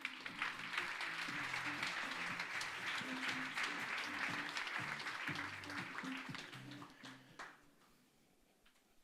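An audience at a French pitch session applauds to welcome a speaker, dense steady clapping from many hands over a low rhythmic musical beat, fading out near the end.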